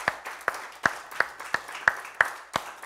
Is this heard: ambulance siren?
no